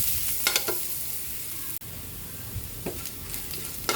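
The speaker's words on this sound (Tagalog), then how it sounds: "Magigisa na po tayo ng ating bawang." Garlic sizzles and fries steadily in a pan while being sautéed for a mung bean stew, with a constant crackling hiss punctuated by several sharp scraping stirs of a utensil against the pan.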